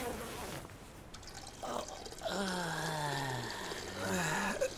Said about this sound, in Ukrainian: О, Майку, я заливаю А? пальне